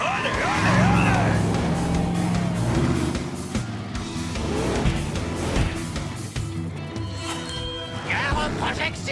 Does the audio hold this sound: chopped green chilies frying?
no